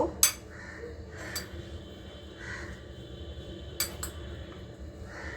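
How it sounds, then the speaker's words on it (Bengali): Utensils scrape and clink against a bowl as food is mixed, with a few sharp metallic taps standing out over soft, steady stirring. "তো আমি এখন এগুলোকে মাখছি মেখে নিয়ে এখানে একটুখানি বাটার দেব"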